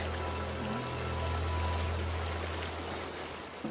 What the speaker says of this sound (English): We eventually did find the waterfall, which was not impressive.